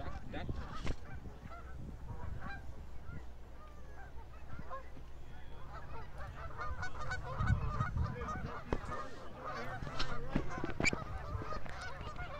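A flock of large geese honks continuously at Montezuma National Park, many overlapping calls rising and falling over a steady outdoor background.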